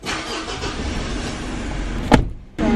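A vehicle engine runs steadily, then gives a short sharp crank and catches again, returning to a loud running sound near the microphone.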